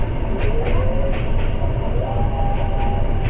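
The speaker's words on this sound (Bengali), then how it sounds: "আর আমাদের বিপরীত পাশেই রয়েছে ট্রেন নাম্বার 720 সিলেট থেকে চট্টগ্রাম অভিমুখী পাহাড়িকা এক্সপ্রেস" A Sylhet-to-Chittagong Paharika Express, train number 720, stands or passes on the opposite line beside the Parabat Express, giving a steady, loud rail rumble with faint whistling tones throughout.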